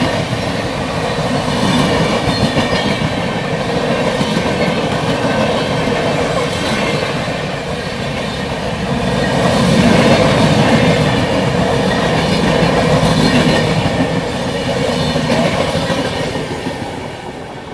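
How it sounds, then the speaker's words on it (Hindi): The Telangana Express rolls into a railway station at night, a loud continuous rumble of carriages with rhythmic clickety-clack of wheels over rail joints and faint squealing, swelling and easing as the coaches pass close by. "ये आ गई अपनी तेलंगाना एक्सप्रेस।"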